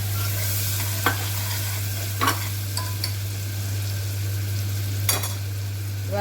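Tomato and baby potatoes frying in a pan under a steady sizzle, with a few distinct scraping stirs spaced apart and a constant low hum behind, nearby and with no voices.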